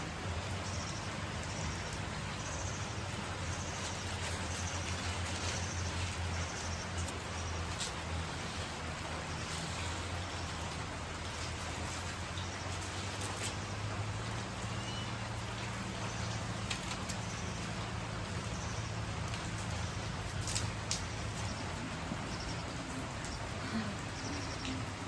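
Heavy rain falls steadily outside a village home kitchen with a wood-fired clay stove, a dense even hiss holding for the whole stretch with faint birds and low rumbles in the background.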